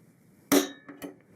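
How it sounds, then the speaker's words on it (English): A spring-loaded punch snaps once against a guitar body to start a pilot hole for a strap button: a single sharp metallic crack, followed by two lighter clicks as the tool is released, close and alone. "Next, I'm going to take a spring-loaded punch."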